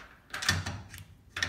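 Locking nuts are tightened onto the door of an Electrofreeze FT-1 batch freezer, making a few metallic clicks and scraping turns in separate bursts, close and moderately quiet, with no talking.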